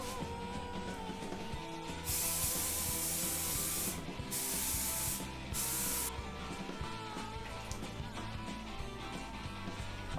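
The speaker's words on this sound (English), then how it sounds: "So I'm about to use this for the sheet for my spray glue." Three bursts of hissing spray from an aerosol can of spray glue, each lasting about a second or two, over a low rumbling background.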